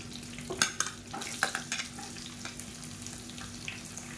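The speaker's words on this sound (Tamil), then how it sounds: "சேர்த்துட்டு இது எல்லாத்தையும் நல்லா வதக்கி விட்டுக்கலாம்" Soft sizzling of onions and chillies sautéing in a pan, broken by a few sharp clinks and scrapes of stirring, fairly quiet and close.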